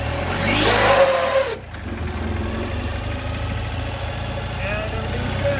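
A Ural Patrol sidecar motorcycle runs with a steady mid-pitched engine drone, a rougher burst near the start easing as the clutch engages, continuing evenly and fairly close throughout.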